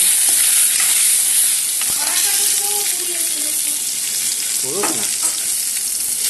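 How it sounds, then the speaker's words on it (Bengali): Pointed gourd frying in a pan gives off a continuous crackling sizzle, with a couple of brief tonal sounds and clinks in the background. "আর এদিকে আমার পটল ভাজা"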